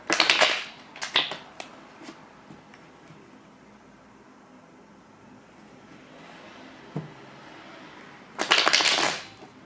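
A deck of cards is shuffled and pulled, with brisk riffling bursts at the start, a quiet stretch with a single soft tap, then another rapid shuffle near the end, all close up and without speech.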